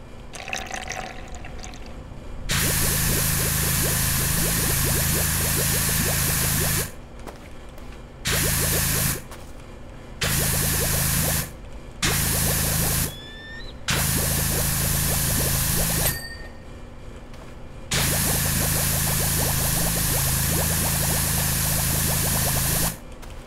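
A pressure washer blasts stone on an ancient monument in the PowerWash Simulator video game, a hissing spray that comes in long bursts broken by short pauses of near silence.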